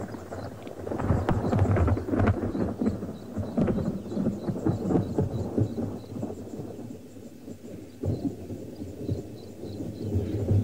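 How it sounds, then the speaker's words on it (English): Rolling thunder rumbles loud and long after rain at an African safari game reserve, with a steady wash of continuing rainfall and no voices. "We have thunder because it's just been raining and it's still raining somewhere."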